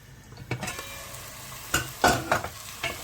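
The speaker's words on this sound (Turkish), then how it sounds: "Taze soğanla taze sarımsağı kavuralım" Fresh green onion and garlic sautéing in a pan, a soft steady sizzle with a few louder stirring scrapes and clicks, close and alone.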